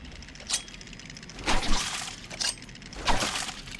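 In the Batman Arkham Asylum video game, a chattering teeth toy shatters in a few sharp, bright breaking bursts spaced apart, crisp glassy crashes over a quiet background.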